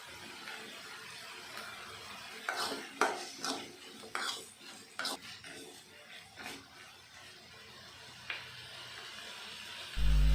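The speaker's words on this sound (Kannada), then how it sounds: "ಟೊಮೊಟೊನ ಎಣ್ಣೆಲಿ ಚೆನ್ನಾಗಿ ಫ್ರೈ ಮಾಡ್ಕೊಬೇಕು ಸ್ಪೂನಿಂದ ತಿರುಗ್ಸಿ ತಿರುಗ್ಸಿ ಚೆನ್ನಾಗಿ ಫ್ರೈ ಮಾಡ್ಕೊಬೇಕಾಗುತ್ತೆ" Tomatoes frying in oil in a pan while a spoon stirs them, giving a series of scattered clinks and scraping knocks against the pan over a soft background, with no voices.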